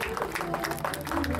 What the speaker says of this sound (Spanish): Fuerte el aplauso para la reina y virreina de esta rodeo.